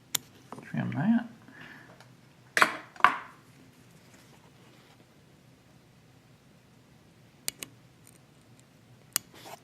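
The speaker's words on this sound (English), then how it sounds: "Take your scissors." Scissors snip and trim material while assembling a parachute, a few sharp crisp cuts in a quiet room with a rustle of handling early on, then long near-silence with faint ticks.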